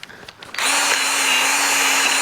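Power tool polishing an aluminium Honda K20 valve cover, a few quiet clicks and handling sounds, then the motor spins up suddenly into a loud, steady high-pitched whine that holds to the end.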